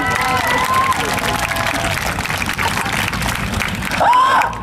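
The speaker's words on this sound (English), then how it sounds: "So clap now." A crowd at a fire performance claps and cheers continuously. The applause is dense and steady, with shouts and a whistle-like squeal near the end.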